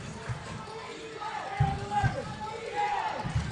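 Crowd noise from spectators at an indoor professional basketball game in Game 1, with a steady roar of cheering, sneaker squeaks and ball thuds mixed in, plus a commentator's voice talking over the action.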